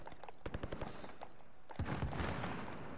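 Gunfire in the online battle-royale game Warzone, a scatter of sharp single shots early on that builds into a denser stretch of rapid overlapping bursts, moderately loud with no talking.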